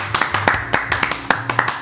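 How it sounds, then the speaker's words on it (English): One person clapping hands, a run of about a dozen sharp close claps in an uneven quick rhythm, loud and dry, with no talk over them. "You get the strong J clap for that."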